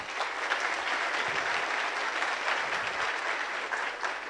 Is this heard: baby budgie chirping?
no